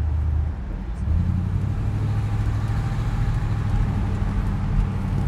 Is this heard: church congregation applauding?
no